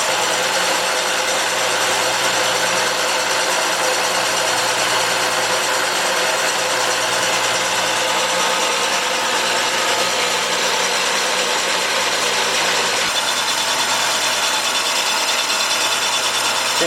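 SIP Hydroptic 8 jig borer cutting a bore in a Willys engine block, a steady, loud, continuous machining drone with a constant hum and broadband grinding texture, shifting slightly in tone near the end, no talk.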